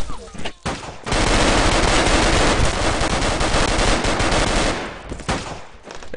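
Heavy, sustained automatic gunfire in a video game, loud and dense for several seconds with brief bursts before and after.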